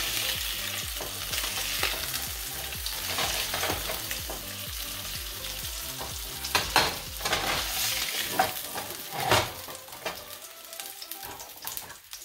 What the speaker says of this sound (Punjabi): ਜਿਹੜੀ ਬਾਕੀ ਦੀ ਫਿਸ਼ ਆ ਉਹਨੂੰ ਵੀ ਆਪਾਂ ਪੈਨ ਦੇ ਉੱਤੇ ਆਪਾਂ ਫਰਾਈ ਕਰ ਲੈਣੀ ਆ